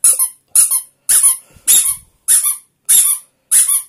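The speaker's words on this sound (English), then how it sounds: "Let me see if I can find a squeaker." A squeaky dog toy gives seven sharp, evenly spaced squeaks close by and alone, with a faint low rumble between two of them.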